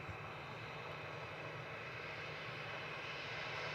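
Plane taxiing at Manchester Airport, its engine a steady broad roar heard from a distance and holding constant for the few seconds, with no talking.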